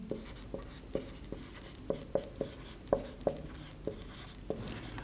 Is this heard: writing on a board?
yes